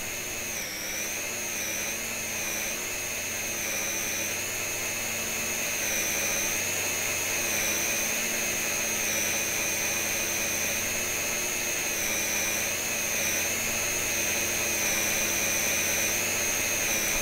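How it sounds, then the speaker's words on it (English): An RC aerobatic model airplane hovers with its electric motor whining steadily at high pitch, a continuous loud drone that wavers slightly as the throttle and ailerons hold it against torque roll. "Using some aileron now to keep the aircraft from rotating."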